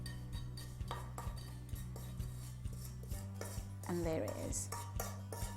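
A mixture being spooned into a baking tin, with soft repeated clinks and scrapes of a spoon against metal, close and quiet over a low steady hum, and a brief spoken remark.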